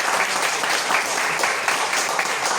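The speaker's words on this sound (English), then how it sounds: "can you give a round of applause to our guest?" An audience at a university seminar applauds its guests, a dense, even wash of many hands clapping at once that stays steady throughout, close and fairly loud.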